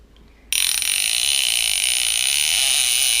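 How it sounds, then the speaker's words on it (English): A bait clicker on an Accurate Fury 400 Narrow fishing reel starts abruptly after a short pause, giving a loud, rapid, continuous ratcheting buzz held close up to the end. "Like, that's very loud, but compared to this thing, it's nothing. That's a loud bait clicker."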